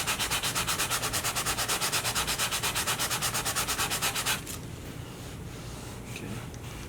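Hand sanding of filler on a leather repair gives a rapid, even back-and-forth scratching rhythm, close and dry, that stops after about four seconds and leaves quiet room tone with a few small knocks.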